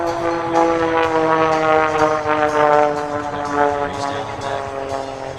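An Extra 330XL aerobatic propeller airplane performs at an air show, its engine droning steadily and loudly with a slowly shifting pitch throughout, and no voice over it.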